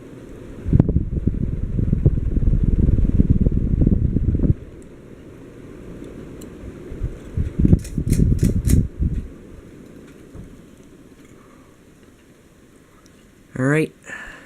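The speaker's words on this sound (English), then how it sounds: "so those are all the ceiling fans in the house running on some of the speeds" A household ceiling fan spinning at full speed gives a whooshing, buffeting air rush in bursts, alternating with quieter stretches of steady hum, and a brief voice is heard near the end.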